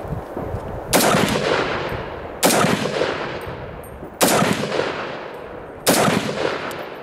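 Four loud, evenly spaced gunshots from an Ensio Firearms KAR-21 multicaliber .223/.308 rifle, each a sharp crack followed by a long, decaying outdoor echo.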